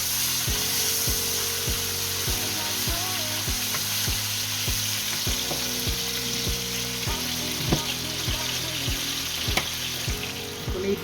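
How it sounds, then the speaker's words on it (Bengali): Marinated beef pieces fry loudly in a pan for beef chili with onions, a close, steady sizzle with rhythmic scraping strokes of a spatula, with no talking. "এখন আমি আস্তে আস্তে করে মাখানো মাংসগুলো অল্প অল্প করে দিয়ে একটু ভাজা ভাজা করে নিই।"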